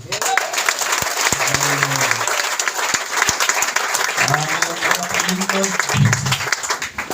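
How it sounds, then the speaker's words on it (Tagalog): A church congregation at an anniversary service applauds for the Lord, with loud, dense clapping that fills the room. Voices call out and talk over it throughout. "katong palakpak nga para sa Ginoo"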